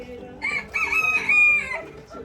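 A rooster crows once, close and clear, its long strained call rising and holding before trailing off, with faint background voices around it in a Romanian yard during a holiday goat slaughter.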